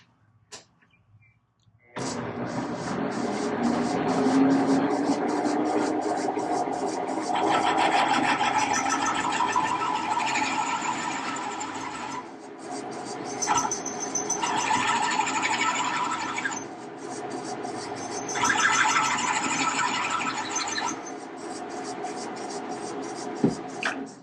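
A drill peels the bottom threads from a spark plug hole in a cylinder head, a sustained rough grinding rasp with shifting intensity that pauses and resumes several times, close and fairly loud.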